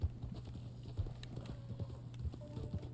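Hooves of a horse in the video game Red Dead Online clip-clop in a steady rhythm over a low constant hum, with a faint snort or whinny near the end.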